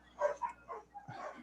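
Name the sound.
dog barking outside the door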